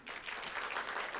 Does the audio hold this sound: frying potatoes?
no